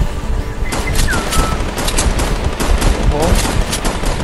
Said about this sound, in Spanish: Donde se escuchan los disparos.